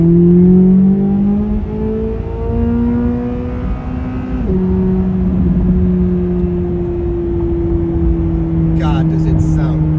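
A 2024 Corvette Z06 engine revs and pulls up through the gears, a strong droning tone rising, dropping at a shift near the middle, then climbing again, loud and close with no speech.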